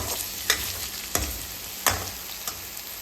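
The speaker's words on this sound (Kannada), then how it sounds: "ಬದನೆಕಾಯಿನ ಹಾಕಿ ಸ್ವಲ್ಪ ಮುಚ್ಚಿ ಫ್ರೈ ಮಾಡೋಣ ಈಗ ಬದನೆಕಾಯಿ ಫ್ರೈ ಆಗಿದೆ ಚೆನ್ನಾಗಿ" Eggplant pieces fry in a pan for vangibath with a steady broad sizzle, broken by four sharp scraping clicks as a spoon stirs them at roughly even intervals; no one speaks.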